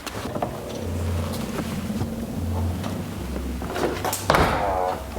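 The tailgate of a BMW E39 Touring, faulty and being lowered by hand, makes low mechanical groans and clunks, ending in a louder thump near the end, with faint voices nearby.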